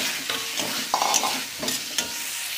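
Egg masala with fried eggs and roasted spice powder sautés in a pan, with repeated scraping stirs over a soft steady sizzle, close and without voices.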